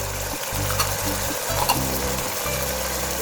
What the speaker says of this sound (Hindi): अच्छे से भून लें, आप मिक्स करें मसाले को।